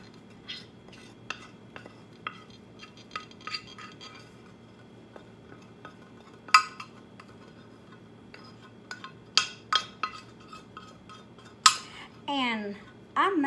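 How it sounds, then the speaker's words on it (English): A spoon scoops and taps in a container of Carb Quick baking mix while making biscuits, with scattered light clinks, scrapes and ticks and a brief rustle near the end. "I'm going to get me a spoon to dip it out."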